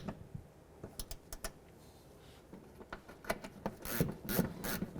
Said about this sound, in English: We're going to come back and tighten up these 10mm bolts